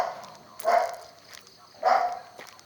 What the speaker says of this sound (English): Plenty of dogs here on the roads.